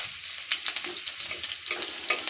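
Pointed gourd and potato pieces being stirred and fried in a hot wok, a steady close sizzle with scraping stir strokes through it and no talk.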